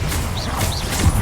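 A Confringo fire spell cast in Hogwarts Legacy bursts with a crashing whoosh and a couple of rising magical swishes, followed by a thudding impact near the end, all close and loud.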